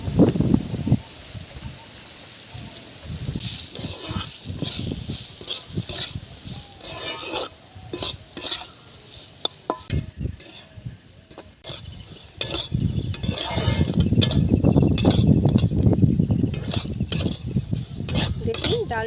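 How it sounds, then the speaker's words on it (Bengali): Washed moong dal dry-frying in a pan, with clattering spoon-against-metal stirring and a soft, rain-like crackle building louder toward the end, mixed with intermittent talk. "ডালটা ধুয়ে নিয়েছি, এখন ভেজে নেব।"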